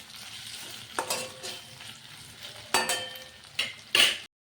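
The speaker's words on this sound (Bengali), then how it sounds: "এখন আলুগুলো ভাজছি।" Potatoes fry in a pan with a soft continuous sizzle, broken by several louder scrapes and knocks as a spatula stirs them, close up with no talking.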